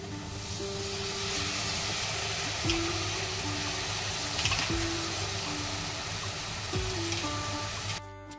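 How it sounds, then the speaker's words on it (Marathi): Chopped vegetables stir-fried in a masala in a pan, giving a steady, close sizzle and hiss throughout, with a few scraping stirs at intervals and no talking. "भाजी मस्त परतवून द्यायची एक 2-3 मिनिट."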